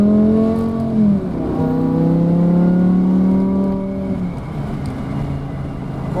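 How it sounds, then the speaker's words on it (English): A V10 car engine revs under throttle with the window down, rising and falling in clear harmonic sweeps that climb, settle and fade over several seconds, loud and close with no talking. "I'll roll my window down so you can hear how loud this V10 is when you throttle up."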